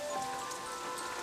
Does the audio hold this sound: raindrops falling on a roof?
yes